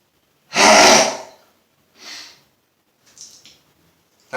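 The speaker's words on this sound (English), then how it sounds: "That was a lot of sneezing." A person sneezes after sniffing pepper up the nose: one loud, close, explosive sneeze, then two softer sneezes or snorts spaced about a second apart, with quiet gaps between.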